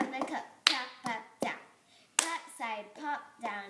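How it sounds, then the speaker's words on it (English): Hands clapping twice and a plastic cup tapped and slapped on a table in a cup-song rhythm, close and crisp, with sharp transients between pauses and no voice over the beats. "Clap, clap, tap on the cup."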